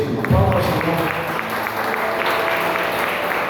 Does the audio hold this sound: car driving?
no